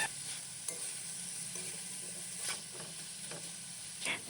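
Carrot and chayote stir-fry with chicken being stirred in a pan, a steady sizzle of frying under repeated scraping strokes of a utensil, several sharper clacks spaced through the few seconds, close and alone with no voices.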